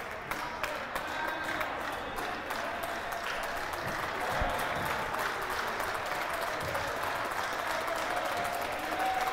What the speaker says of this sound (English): And the fans are cheering.